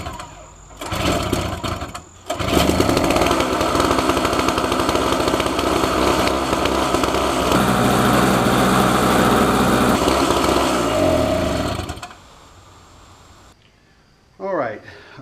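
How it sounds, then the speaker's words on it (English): A trash-picked Snapper 17 LE snow blower engine cold starts into a loud, steady, buzzing small-engine roar. It runs for several seconds, then cuts off into quiet with a brief voice at the end. "let's do a quick cold start on this thing"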